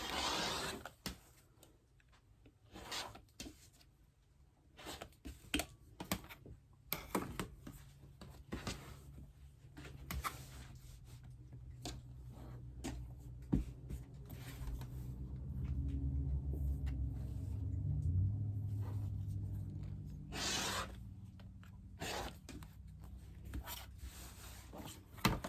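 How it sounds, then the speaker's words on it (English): A rotary cutter trims the extra quilt batting along the edge of a no-binding table runner, giving soft scattered rubbing and cutting scrapes with a low rumble underneath, close and fairly quiet. "I'm just going to cut off the extra batting. Right along the edge. You can use scissors or a rotary cutter, whatever you want. I'm going to use the rotary cutter."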